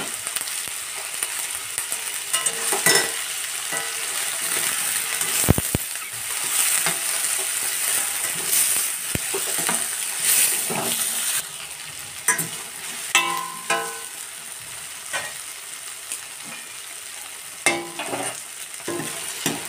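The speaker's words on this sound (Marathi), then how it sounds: "मसाले, लसणाचे पाकळ्या आहे, आल्याचा तुकडा आहे, काजू, मिरची, दालचिनी, मोठी इलायची ही आपण छानपैकी कढईत भाजून घेणार आहे" Spices, garlic cloves, a piece of ginger, cashews, chillies, cinnamon and black cardamom sizzle and dry-roast in a kadhai while being stirred now and then, a steady, fairly quiet frying hiss with scraping knocks and no talk.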